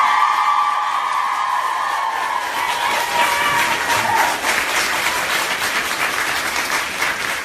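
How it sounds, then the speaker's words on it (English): Sustained applause from a large audience at a speaking event, steady dense clapping with some cheering mixed in, heard alone without talk. "One more round of applause."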